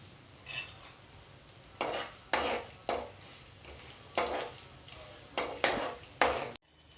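Dried red chillies fry in hot oil while a spoon or ladle stirs and scrapes the pan in a series of separate clattering strokes, each followed by a brief sizzle.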